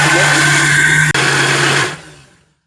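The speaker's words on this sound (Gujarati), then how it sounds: "તો ચાલો હવે ઢાંકણું બંધ કરી મિક્સર ચાલુ કરી નાખીએ." Electric mixer grinder grinds a homemade spice masala, a loud, steady motor whine with a brief stutter near the middle before the motor winds down and fades to silence.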